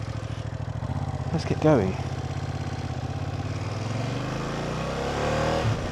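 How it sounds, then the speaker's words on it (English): A Ducati Multistrada V2S motorcycle idles with a steady, throbbing engine pulse close by, a brief whine and a shift in tone partway through, while someone talks over it. "Ducatis always sound like they struggle to start. A bit sort of wheezy."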